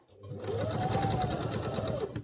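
A sewing machine runs steadily, stitching a seam with a one-centimetre allowance on a collar stand; a continuous rapid whir and clatter is heard close up, with no talk.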